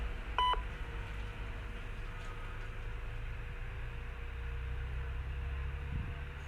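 A 2 meter amateur radio repeater answers with a short burst of sharp electronic tones near the start, then a long hiss of open carrier noise with a low hum underneath.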